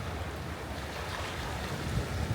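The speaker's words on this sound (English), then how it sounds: "There's another one of those little areas where water comes in and it slowly trickles out again to the ocean." Ocean water washing in and out of a small inlet along the waterfront on Dallas Road, a steady broadband wash with wind noise and no talking.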